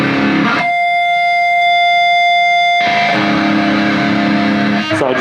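Electric guitar through a distortion pedal with the gain cranked, a sustained howling feedback tone ringing over dense fuzzy distortion, with a brief thinner stretch before the full roar returns, loud and close without speech.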